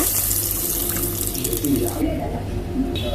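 Water runs steadily into a pan, a continuous splashing pour close by for a few seconds.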